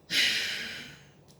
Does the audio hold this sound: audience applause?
no